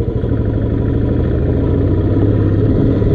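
A motorcycle engine riding a rough off-road mountain track between Kalpa and Gue in Spiti: a steady, loud, close mid-pitched engine drone with a faint clatter over the bumpy ground, no voices.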